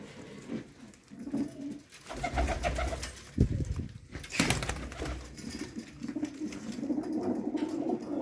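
Several pigeons coo in low, throaty rumbles, overlapping steadily throughout, with a brief flutter of wings near the middle.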